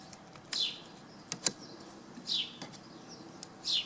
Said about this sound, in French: Les oiseaux chantent.